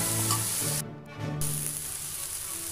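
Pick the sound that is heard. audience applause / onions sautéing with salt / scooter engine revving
onions sautéing with salt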